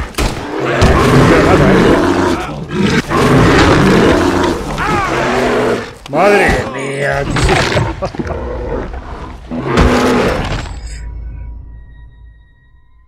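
A bear in Red Dead Redemption 2 lets out repeated loud, growling roars over several seconds, mixed with game noise and a voice, before fading to near silence.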